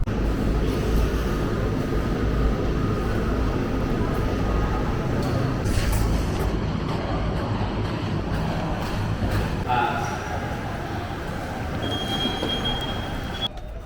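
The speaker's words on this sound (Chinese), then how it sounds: "列车即将到达终点站莫罕" A train pulls into the Mohan terminal station in southern Yunnan near the Laos border, with steady rumbling rail noise and occasional squeals and clunks as it slows, and people talking under it.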